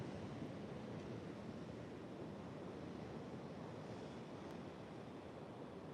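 Pacific Ocean waves break in a steady, dense wash of surf, loud and continuous, with wind buffeting the microphone and no voices.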